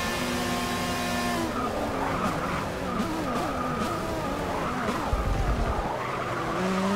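A race car in Forza Motorsport 6 braking hard, tires squealing and skidding under a loud, high revving engine, then the engine note drops and picks up again, sustained and close with no talking.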